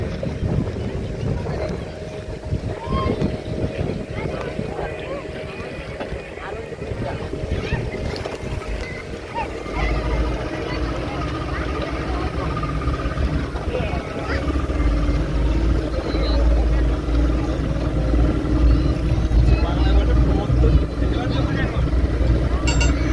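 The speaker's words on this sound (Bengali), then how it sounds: "এবার আমাদের বোট চলতে শুরু করব।" A motor boat's engine drones steadily at sea off Goa, between Colomb Beach and Butterfly Island, growing louder and heavier midway, with wind buffeting and passengers talking over it.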